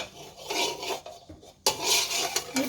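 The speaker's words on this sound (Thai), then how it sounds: "น้ำมันไม่ต้องเยอะนะคะ เราเอาแค่ผัดหมูให้สุกนะคะ" Pork stir-frying in a small amount of oil in a pan, a close hissing sizzle with scraping and clinking of a utensil against the pan, one sharp surge of sizzle midway.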